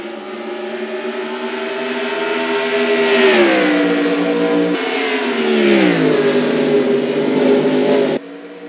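Race car engines roaring in a stock car racing video game, a loud sustained drone whose pitch climbs and drops as the cars rev and shift, alone without talk.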